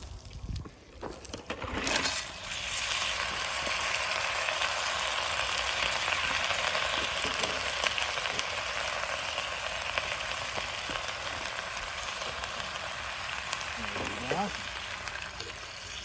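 Garlic sizzles in a pan while camp clam chowder is cooked outdoors, a loud, steady crackling hiss that keeps going after an opening clatter, with a few stirring scrapes over the top.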